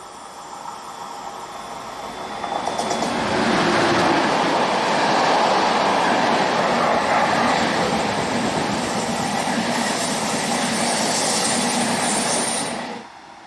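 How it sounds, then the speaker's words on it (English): A Class 402B train passes heading south just north of a town, swelling from a distant hum into a loud, steady rolling rumble with clicking wheels and hiss, then cutting off abruptly near the end. "Just north of the town we get this view of a Class 402B heading south"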